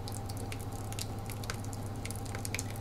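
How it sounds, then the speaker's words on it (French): Thick pumpkin and squash pie filling is poured onto raw pastry in a tart tin, giving a steady, close, wet squishing and dripping sound with soft splatters throughout, no talking. "nous allons verser notre appareil à la citrouille, à la courge sur notre pâte"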